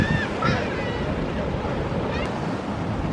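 Strong ocean surf rolls in at a rocky coastal bathing spot on the rugged west coast of São Miguel in the Azores, a continuous roaring wash with wind buffeting the microphone.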